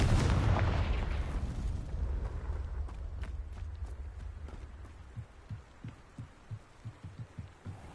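A Confringo fire spell bursts in Hogwarts Legacy, a loud booming blast at the start that decays into a long rumbling tail, followed by a series of soft, evenly spaced thuds.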